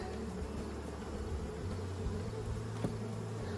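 Honey bees drone in a dense, continuous buzz around a beehive after a bear attack, many insects close by with a steady hum throughout.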